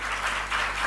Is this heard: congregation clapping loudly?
yes